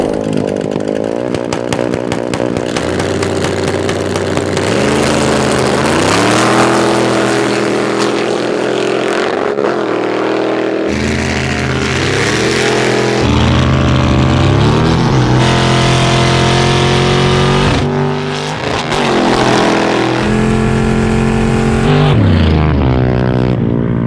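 A 650hp big block Ford Bronco and a 40hp fully-built Honda Grom launching side by side in a drag race, a loud, sustained engine roar climbing through repeated gear-change pitch sweeps, with no talk.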